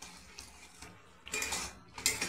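A spoon stirs pointed gourd and egg curry in a pan, giving a few short metallic scrapes and clinks, quiet at first and then louder toward the end.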